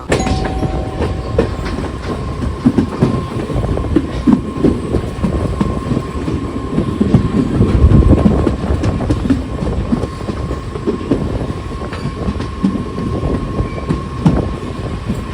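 A Panvel–Chiplun Diwali special MEMU electric commuter train runs along the tracks, a loud continuous rumble with rhythmic wheel clacks and rattling carriages, heard from on board with no voices.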